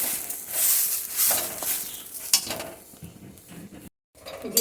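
Grated taro (kochu) frying and being stirred in a pan, giving a soft continuous sizzle mixed with scraping spatula strokes and light metal clinks, with a brief silent gap near the end.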